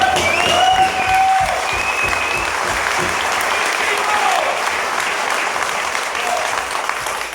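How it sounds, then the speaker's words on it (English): Sustained applause from an audience at a regional organization meeting, a steady dense wash of clapping lasting throughout with a few brief whistles and voices mixed in. "Give everyone a round of applause."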